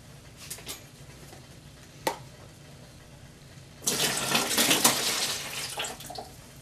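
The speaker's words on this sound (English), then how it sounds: "we added our 15 cans with equal parts of water" Water pours steadily into a batch of fifteen cans of mix for homemade hobo wine, a loud splashing rush that starts partway through after a few brief clinks and knocks.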